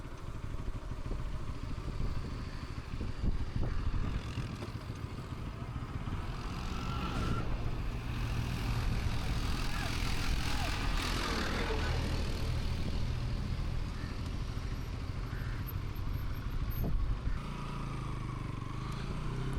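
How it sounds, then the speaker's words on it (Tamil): A Bajaj Pulsar NS200 motorcycle engine drones steadily while riding in Jaffna, with wind rumble and passing traffic noise, continuous and fairly loud throughout. "பைக் சவுண்ட் இருக்கும், ஆனால் அது அவுட் சைட் ஆடியோ"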